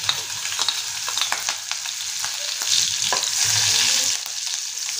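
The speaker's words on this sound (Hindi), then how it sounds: "अब इन मिर्च को और लहसुन को हम थोड़ी देर फ्राई कर लेंगे, बस 30 सेकंड फ्राई कर लेंगे।" Chopped garlic cloves and green chilies fry in hot oil in a pan, giving a steady crackling sizzle with scraping stirs throughout, swelling slightly louder toward the end.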